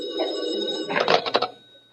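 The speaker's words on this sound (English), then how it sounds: "Suddenly the phone rings." A telephone rings once, a brief metallic bell trill following a tonal buzz, close and fairly loud, then fades out.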